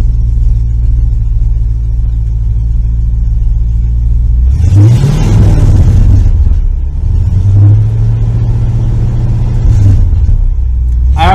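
An International Harvester truck engine with double-length cherry bomb mufflers and no tailpipes idles with a deep rumble, then revs hard twice in loud throaty bursts before settling back to idle.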